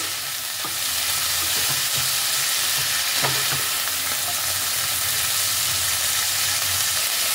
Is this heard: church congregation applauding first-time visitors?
no